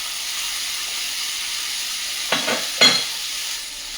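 Bottle gourd being sautéed in a pan with crushed cardamom and salt, a soft, even sizzle interrupted by two brief scraping bursts of stirring.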